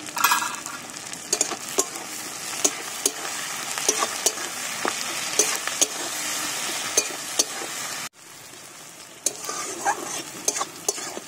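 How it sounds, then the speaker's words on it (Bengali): Onions fried in oil with a spoon of salt are stirred steadily in a pan, giving a constant close sizzle punctuated by regular scraping clinks of the spatula, briefly dipping quieter before the stirring resumes, with no talking. "পেঁয়াজটাকে লাল লাল করে ভেজে নিয়েছি।"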